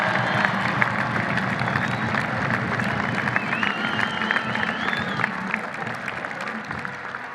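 An audience at a political speech in Mexico breaks into sustained applause, dense clapping mixed with crowd noise and a few cheers throughout, fairly distant and even in level.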